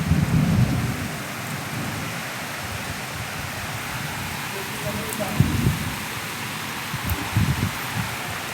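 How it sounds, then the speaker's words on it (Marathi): Thunder rolling through a heavy, unseasonal rainstorm with strong cyclone winds: a constant hiss of pouring rain, with deep rumbling bursts at the start, near the middle and toward the end. "हे बघा ढगांचा आवाज येतो तुम्हाला पण"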